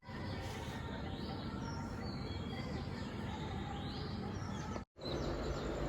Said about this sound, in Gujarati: એકદમ મસ્ત પક્ષીનો કલરવ સંભળાય છે